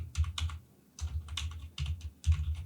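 Keys clatter on a computer keyboard as a command is typed at a terminal, coming in three or four quick bursts of close, crisp clicks separated by short pauses.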